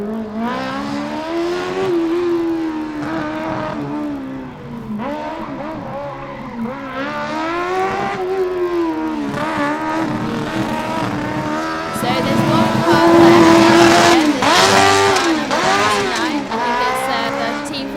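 A Formula Student race car running an autocross course, its engine revving up and down in repeated sweeps with tire squeal, near and loud, while an announcer's commentary runs over it throughout.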